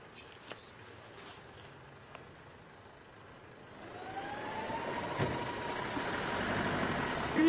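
Solar Impulse solar-powered airplane's electric engines running at max power during takeoff from Chongqing, a steady broadband whir rising and swelling from about four seconds on, with a faint rising whine, no talk.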